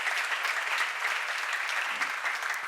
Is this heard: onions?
no